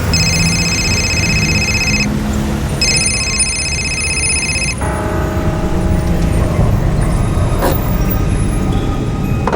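A taxi drives through city traffic, its engine and road noise a steady, loud rumble, with a phone's electronic ring sounding in two bursts near the start.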